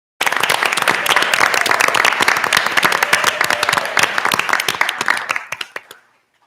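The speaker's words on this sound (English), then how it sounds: "let's give him first a round of applause for that" Audience applause at a school district board of education meeting honoring an employee of the year, dense steady clapping from a room of people that stays loud before tapering off and stopping.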